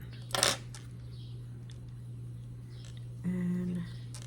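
Scissors snip a cotton yarn strand once after a crochet blanket round is fastened off: a single short, sharp metallic click near the start, followed by quiet room tone and a brief low hum.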